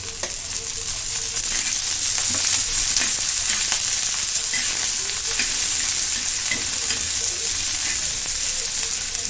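Cumin, onion and curry leaves sauté in hot oil in a pan, giving a loud, steady sizzle across the whole stretch, with occasional light stirring clicks and no voices.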